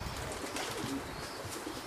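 A pigeon coos softly in the distance, faint against a steady hiss of outdoor background noise.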